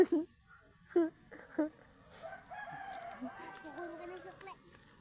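Chickens at a poultry farm: a rooster crows and hens cluck at a moderate distance, with a few sharp calls at the start and voices faintly in the background.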